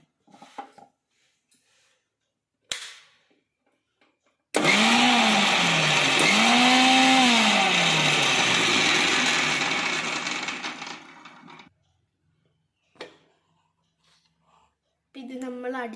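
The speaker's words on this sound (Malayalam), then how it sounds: "വെളുത്തുള്ളി ഇട്ട് കൊടുത്തു, പിന്നെ ഉണ്ടമുളകും. ഇതെല്ലാം ഒന്ന് മിക്സീൻ്റെ ജാറിലിട്ട് കറക്കിയിട്ട് വരാം." A mixer grinder jar whirs loudly for about six seconds, grinding garlic and small round dried chillies, the motor pitch bending as it spins up and winds down, with brief clicks and handling noises before and after.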